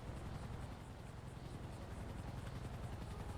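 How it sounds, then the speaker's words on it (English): A video game helicopter's rotor thumps in a fast, even rhythm, faint and distant, under a steady low rumble. "I hear a helicopter."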